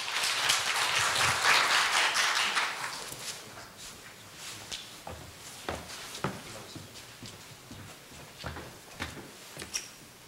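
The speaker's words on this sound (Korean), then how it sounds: "큰 박수로 맞이해 주시기 바랍니다" Applause from an audience at a Korean green campus council summer workshop for green leaders, a burst of clapping over the first three seconds that fades into scattered claps, footsteps and small knocks.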